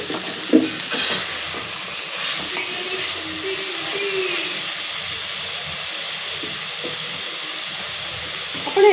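Chopped onion and tomato frying in a pan for a prawn biryani give a soft, continuous sizzle with faint stirring scrapes and a few small knocks, close by and fairly quiet.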